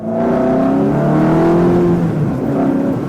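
Salvage Ferrari accelerating hard, a loud, close engine roar with rising revs that climbs steadily through the whole short stretch, no voices.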